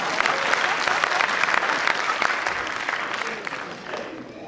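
An audience applauds a comedian-poet at a company foundation day celebration, a loud, dense burst of clapping that holds steady and then thins and fades over several seconds.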